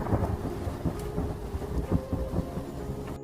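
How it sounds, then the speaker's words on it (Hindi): Heavy rain pours down in an animated cartoon scene, a continuous rushing roar with deep thunder rumbling underneath and no voices. "तभी बहुत जोरों से बारिश होने लगती है।"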